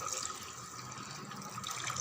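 Water pours steadily into a pot of soaked sago for kanji vatthal, a continuous splashing trickle close by without any talk.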